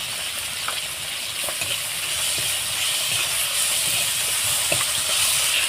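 Fish curry masala with chili powder sautéing in a pan, a steady loud sizzle and hiss with a few soft scraping stirs, no voices.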